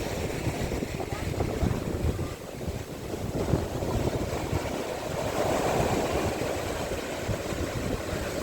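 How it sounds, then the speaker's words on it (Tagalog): Strong ocean waves churn around a small boat off Mauban, Quezon, a constant loud rush of water and wind buffeting the microphone, with the boat's motion underneath. "Ang lalakas ang alon."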